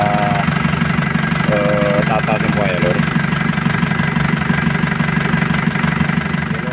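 A car engine idles steadily after a turbo cartridge replacement, a constant low mechanical hum with light knocking throughout, while someone talks over it.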